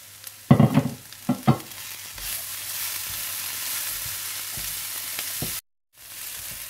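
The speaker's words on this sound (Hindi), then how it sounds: "थोड़ा सा भूनने के बाद आप इसमें ताजा हरा धनिया डाल दें और अच्छी तरह से मिला लें" Samosa filling with fresh coriander stirred in a pan: a few scraping spoon strokes up front, then a steady soft sizzle that cuts out briefly near the end.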